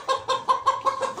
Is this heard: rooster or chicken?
yes